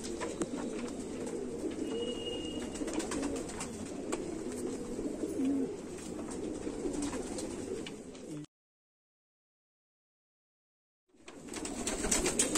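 Pigeons coo in a loft, soft repeated throaty calls over a steady background hum, cutting to total silence for a few seconds before the ambience returns.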